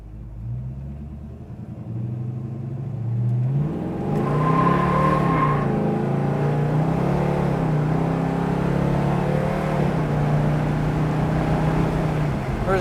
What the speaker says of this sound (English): we will run it up through the gears.